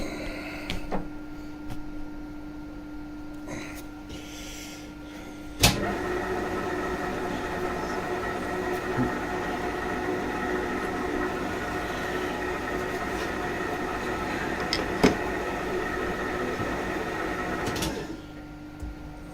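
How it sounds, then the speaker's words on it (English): Metal lathe cutting a thread on a tractor gear selection rod, a steady mechanical whir with gear whine, starting with a clunk and running evenly with occasional knocks before stopping, close and moderate, no talk. "starting the threading off with the lathe"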